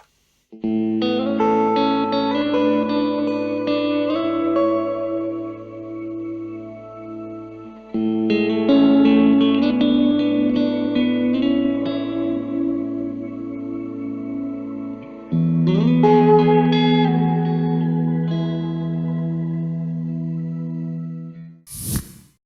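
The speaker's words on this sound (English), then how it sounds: "so that we get the full effect of the shimmer reverb" Electric guitar chords ring out in three long phrases, each swelling into a bright, shimmering, octave-up reverb wash that lingers and sustains.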